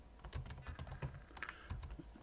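Rapid typing on a computer keyboard, a quick close sequence of light key clicks with short gaps, alone without speech.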